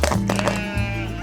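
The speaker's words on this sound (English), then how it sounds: "We have sheep and lambs." Sheep and lambs bleating on a farm: a close, wavering bleat that fills the short moment, with a second voice overlapping near the end.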